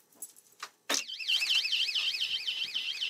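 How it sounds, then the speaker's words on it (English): A house alarm shrieks close and loud with a rapidly warbling electronic tone that runs continuously after a few brief knocks and clatters. "that's the alarm."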